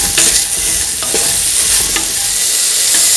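A pumpkin, ivy gourd and coconut milk gravy is stirred in a frying pan, with a spoon scraping and clinking steadily over a continuous loud sizzle, close up and without voices.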